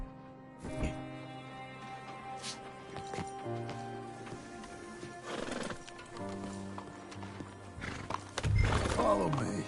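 A horse gallops and whinnies in Red Dead Redemption 2, its hoofbeats running under game music, with a loud neigh near the end.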